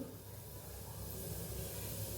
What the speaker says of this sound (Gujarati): અહીંયા આપણું તેલ સરસ ગરમ થઈ ગયું છે તો અડધી ચમચી જેટલું આપણે જીરું ઉમેરશું